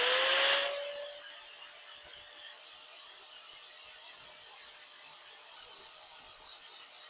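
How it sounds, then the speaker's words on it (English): A grinder bites briefly into the metal bearing shaft of a Vermeer 604M hay baler with a harsh burst. It then winds down to a faint, steady whine with a few light scrapes, heard alone. "I just hit it with a grinder for a little bit,"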